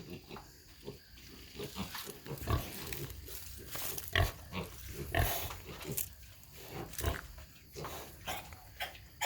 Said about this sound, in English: But these pigs are 7 or 8 weeks old.